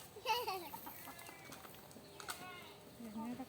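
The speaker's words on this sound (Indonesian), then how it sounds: "Oh, ini datang ayamnya." Free-range village chickens arrive for feeding, clucking softly and intermittently nearby while people talk quietly over them.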